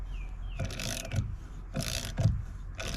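Wrench ratchets a nylock nut tight on a Minn Kota Ulterra Quest trolling motor, giving a few close, short bursts of clicking over a steady background hum.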